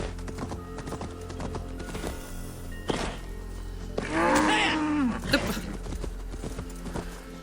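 Cows near a Viking longhouse in the video game Assassin's Creed Valhalla, with one drawn-out low moo midway through, set among clopping hooves and game ambience.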